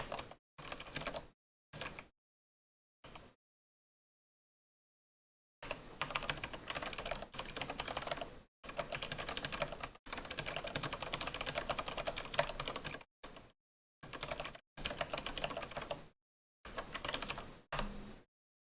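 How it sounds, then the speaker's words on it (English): Bursts of typing on a computer keyboard during software library coding work, close and clear, broken by short and long silent pauses, with no talking. "Typing information."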